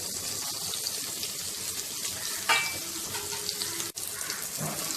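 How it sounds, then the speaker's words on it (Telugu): Onions, green chillies and curry leaves frying with masala in a pan for coconut milk pulao, a steady close sizzle throughout, with a brief clatter of stirring partway through and no talking. "కొద్దిగా వేగిన తర్వాత ఉల్లిపాయ ముక్కలు, పచ్చిమిరపకాయ ముక్కలు, కరివేపాకును వేసి వేయించుకోవాలి."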